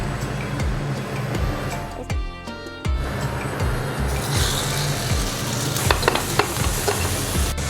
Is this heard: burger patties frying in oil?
yes